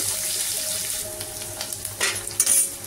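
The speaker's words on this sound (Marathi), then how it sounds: "तेल तापलं की हे अर्धा चमचा जिरं घालते, कढीपत्त्याची पानं घालते, जिरं घालते आणि हा कांदा घालून छान परतून घेते।" Onion frying in hot oil with cumin seeds and curry leaves, a steady close sizzle with stirring scrapes and a few louder crackles toward the end, no talk.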